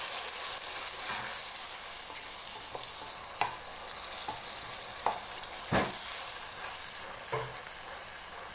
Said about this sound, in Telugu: మనం ఇలా గ్రైండ్ చేసుకున్న పేస్ట్ మొత్తం వేసేయాలండి.